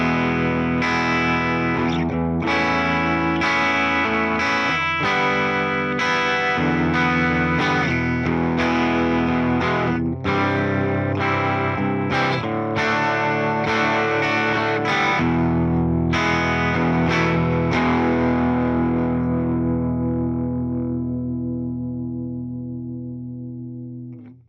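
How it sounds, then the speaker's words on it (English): Electric guitar played through a Fender Tone Master Pro Orbit Stereo Panner placed after the amp, with loud distorted chords that shift and pulse steadily before a long sustained chord rings out and fades. "The Orbit Stereo Panner also has to be placed after the amp"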